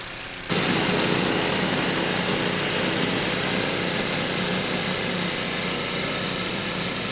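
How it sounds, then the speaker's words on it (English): A snow blower clears snow during a harsh winter, its small engine running in a steady, loud, continuous drone that kicks in after a brief quiet moment and holds throughout. "we were smart enough to acquire this snow blower"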